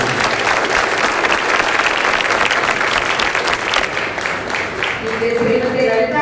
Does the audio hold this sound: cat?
no